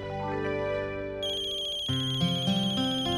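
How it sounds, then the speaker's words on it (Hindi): An electronic phone ringtone plays a bright repeating melody, loud and close, with no voices. "रुक्मिणी बहन का फोन है"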